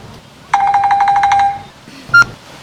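A mobile phone ringtone plays a rapid, pulsing electronic melody for about a second, then stops; a single short bright beep follows shortly after, both loud and close in an otherwise quiet room.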